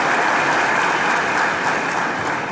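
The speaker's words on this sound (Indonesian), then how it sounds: "Tepuk tangan panitia ya." Brief, steady applause from a seminar audience for the event committee, a dense wash of clapping at constant level with no voices.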